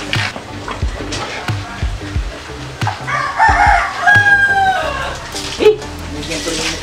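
Native chickens cluck and a rooster crows mid-clip in a village yard, moderately close, with people talking and rustling around them.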